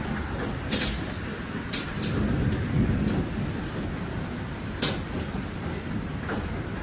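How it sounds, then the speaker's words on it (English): Steady heavy rain from a Victoria, Australia thunderstorm roars evenly throughout, with several brief sharp cracks and a low rumble of thunder breaking through the downpour; no voices. "Thunderstorms have caused widespread damage across Victoria, as torrential rains battered the state on Sunday afternoon."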